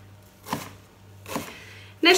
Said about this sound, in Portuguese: nós agora já fizemos uns cubos, mais ou menos da cebola do tamanho que nós queremos